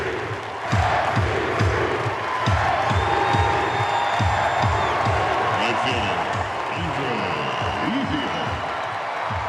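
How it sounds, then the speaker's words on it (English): A large baseball stadium crowd roars and cheers continuously after a home run, loud and sustained, with rhythmic claps and shouts rising over a dense wash of noise. "listen to the crowd."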